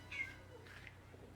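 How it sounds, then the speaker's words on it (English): A house cat gives a faint meow, then a second soft one, in the background of a quiet room. "Did you guys hear that? That was our cat."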